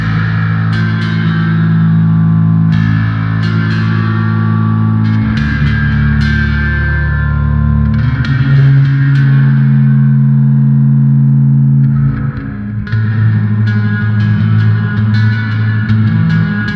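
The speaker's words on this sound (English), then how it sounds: "let's put on a whole reverb. I love to use a reverb for super ambient sections" Bass guitar played through the Endless Bass plugin with a large reverb, sustained low notes and chords ringing into a long ambient wash, with brighter plucked attacks over a continuous droning tail.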